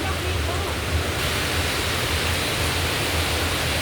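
Steady, dense roar of a waterfall at Lake Sebu, a loud continuous rush filling the whole clip without letting up.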